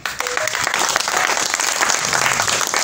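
Loud, sustained applause from an audience at a meeting greets Monsieur Mick Moulenga, a dense steady patter of many hands clapping for about three seconds with a faint murmur of voices beneath.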